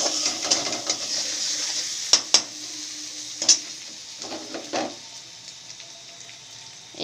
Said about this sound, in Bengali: দেখতে পাচ্ছ কষছি।